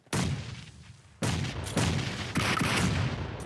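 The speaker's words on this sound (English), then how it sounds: "Explosions everywhere, and then adding that DBS to the mix, it just sounds like chaos in Pachinki right now." Grenade explosions and gunfire from a competitive esports finals video game match come as loud, dense bursts: one sustained blast, then several overlapping booms in quick succession filling the mix.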